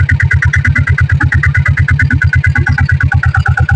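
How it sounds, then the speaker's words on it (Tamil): A company-fitted diesel Bullet motorcycle with electric self-start idles close by, its engine giving a loud, even, rapid thumping beat that holds steady throughout. "இப்போ செல் போட்டு காட்டுற பாருங்க. இது செல்ஃப் சைடு பேட்டரிங்க."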